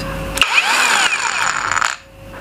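A HUJIA cordless grinder runs at medium RPM, giving a loud, steady high-pitched whine with a rising and shifting tone for about a second and a half before it abruptly winds down.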